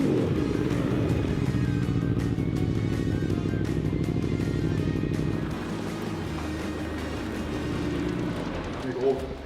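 Lotus 340R sports car engine rumbling and revving under continuous conversation, a loud steady drone that eases slightly partway through with a brief burst near the end.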